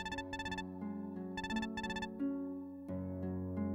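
Phone ringtone plays a bright electronic melody, with bursts of repeated tones followed by sustained synth notes, clear and fairly close with no talk.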